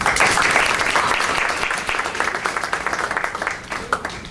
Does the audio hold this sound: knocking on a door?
no